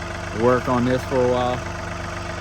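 A tractor engine idles steadily in the background outdoors on a mild winter day, a low continuous hum under a voice.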